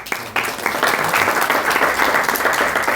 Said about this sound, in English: let us first give her applause.